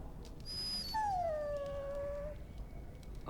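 A dog in the fantasy role-playing game Dragon Age Origins lets out a single drawn-out, high whimpering whine that bends downward, close and clear over a quiet background hum.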